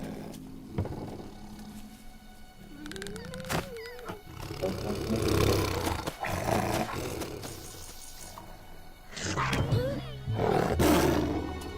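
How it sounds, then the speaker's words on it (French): Low growling roars from a puma, rising in a few bursts over a rumbling, noisy background; moderately loud, no talking. "Un puma!"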